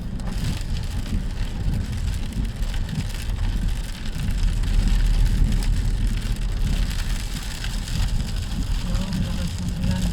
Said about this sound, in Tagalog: malakas ng ulan, grabe. As in, sobrang malakas.